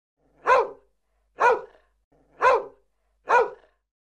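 A dog barks four times at a steady, evenly spaced rhythm, each bark sharp and fairly close, with silence between them and no talking.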